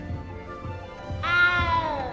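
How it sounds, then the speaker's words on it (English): A small cat in the Hogwarts Legacy video game meows once, a clear, drawn-out cry rising over a soft, rhythmic low background with no talking. "You don't need to be frightened, little cat."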